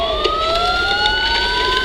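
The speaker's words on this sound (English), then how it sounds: "Sirens." Wailing police sirens in the video game Batman: Arkham Asylum rise steadily in pitch, loud and continuous, with a vehicle rumbling underneath.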